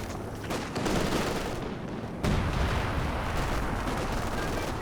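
Artillery fire in Company of Heroes 2, a dense continuous roar of booming explosions and gunfire, loud and near, that swells sharply partway through and keeps rumbling.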